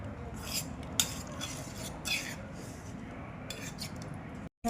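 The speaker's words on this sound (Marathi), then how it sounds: "असं गाळून घ्यायचं चाळणीमध्ये असं चमच्याने" A metal spoon scrapes and taps against a sieve, pressing sweet panipuri water through in irregular clinks and scrapes, close up, with faint background noise.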